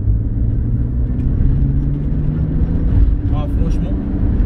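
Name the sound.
Toyota FJ Cruiser 4x4 driving fast on a dirt track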